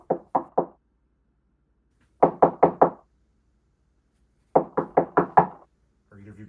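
Knocking on a front door comes in three quick bursts of sharp knocks, three then four then five, separated by silence, followed by a short low sound at the end.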